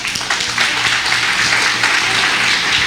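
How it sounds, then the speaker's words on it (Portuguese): A church congregation applauds loudly and continuously, a dense crowd of clapping hands filling the space with no pauses. "aplauda bem forte ao Senhor."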